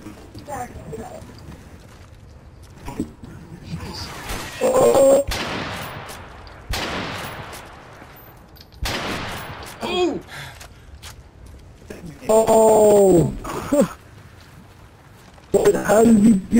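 Gunshots are fired through a wall in a video game, with several loud bursts of gunfire spread across the clip and players talking and reacting between the volleys.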